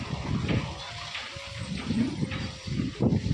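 Water splashed over garden plants as they are watered, a close, uneven gushing in repeated bursts.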